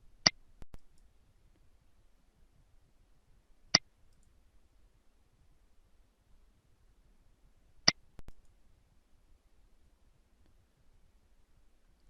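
A computer mouse clicks on a Select button, sounding as three sharp, isolated clicks a few seconds apart in an otherwise quiet room.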